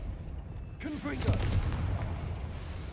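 A Confringo fire spell bursts in Hogwarts Legacy, a sharp blast with crackling, booming tail, while a voice speaks briefly over it.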